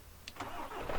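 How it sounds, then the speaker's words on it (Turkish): A truck engine cranks and catches in the mobile game Grand Truck Simulator, a brief close start-up that settles into a steady running rumble, heard alone. "Aracımızı çalıştıralım."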